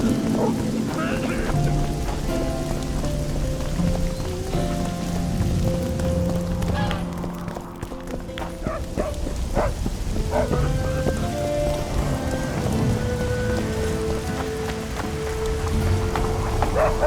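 Steady rain falls in The Witcher 2: Assassins of Kings Enhanced Edition, a constant wash of patter running beneath game music and a voice talking throughout.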